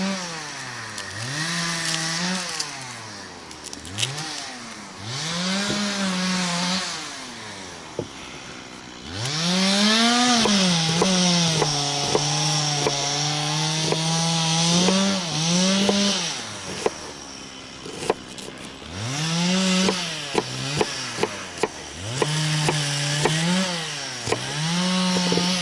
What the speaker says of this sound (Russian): дай только пилу в руки